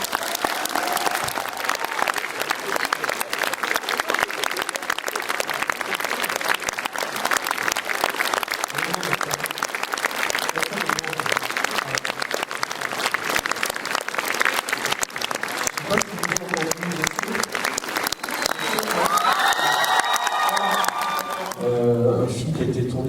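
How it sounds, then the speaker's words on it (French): Loud, dense applause from a cinema audience at a film premiere screening, continuous and undiminished for over twenty seconds before a voice cuts in at the very end. "Jean Dujardin, je vous demande d'applaudir très fort."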